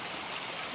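Stream water flows along a dense forest trail near a hidden waterfall, a brief, constant broadband rush and babble heard close by with no voices.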